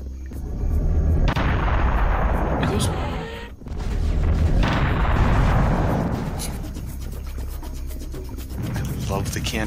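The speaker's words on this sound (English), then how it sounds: "I love the cannon so much, just for being able to one-shot everything." Heavy cannon blasts in Serious Sam: The First Encounter, loud booming detonations with rumbling decay filling the whole stretch, one sharp break midway before another sustained roar.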